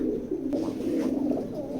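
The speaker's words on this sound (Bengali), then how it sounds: "এটা হলো দ্বিতীয় পেয়ারের নর ডাকতেছে" A male grizzle pigeon coos close by, a low continuous throaty rolling call that lasts the whole short moment.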